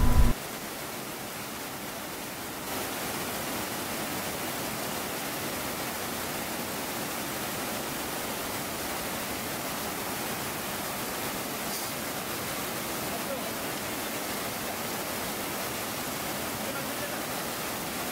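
A mountain river near Api Base Camp rushes in a steady, even roar that fills the whole stretch without pause, close and unbroken.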